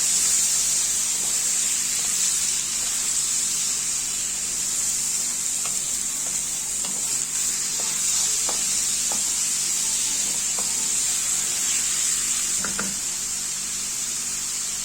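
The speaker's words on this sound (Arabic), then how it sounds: "بنقطعها ونشوحها على طول. نقلب كده كويس" Chopped liver sautéing in a pan, a constant bright sizzle close by, with scattered clinks and scrapes as it is stirred; no talking.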